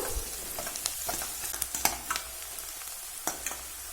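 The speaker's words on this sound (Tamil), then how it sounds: "அந்த எண்ணெயில ஒரு அரை தேக்கரண்டி அளவுக்கு தட்டி எடுத்த பெருஞ்சீரகம் சேர்த்துக்கலாம்." Crushed fennel seeds in hot oil give a faint, steady sizzle with scattered crackles and small pops, close and quiet.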